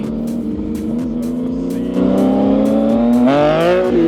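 A warm Yamaha MT-09 motorcycle engine pulls away, its loud rising note climbing through the gears with a sharp jump in pitch near the end, steady and close with no talking.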